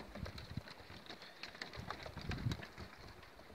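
A stray pigeon perched on a rooftop coos softly and faintly in fair weather, with scattered light ticks and background rustle and no talk.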